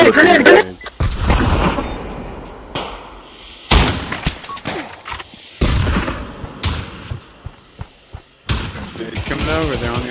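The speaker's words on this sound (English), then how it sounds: "Inspired me to throw my own artillery grenades." Repeated booming explosions from thrown artillery grenades and bursts of gunfire punctuate a multiplayer shooter match, loud and close, with players talking between and under the blasts.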